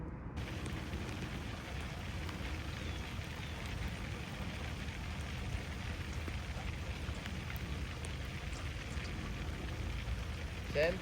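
Steady rain pouring down outdoors during a Thanksgiving Day storm, a dense even hiss of drops on surfaces that holds constant and fairly close for the whole stretch.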